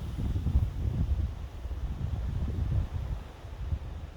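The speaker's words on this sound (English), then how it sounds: "It's quite windy to say the least" Wind gusts buffet the microphone outdoors beside a church, a continuous low roaring rumble that swells and dips in strength throughout, with no talking.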